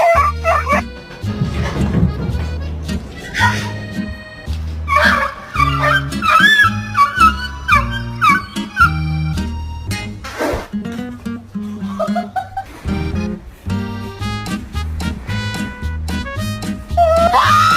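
A husky barks and whimpers loudly in repeated yelping bursts with whiny, drawn-out cries throughout, close to the listener, with little or no talk.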